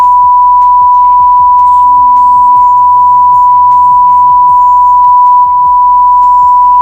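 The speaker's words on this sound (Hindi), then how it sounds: "तो मैं इस वजह से मैंने वो बीप कर दिया" Steady censor bleep tone running the whole length over a woman's Hindi vlog speech, loud and continuous as it masks the talking beneath it.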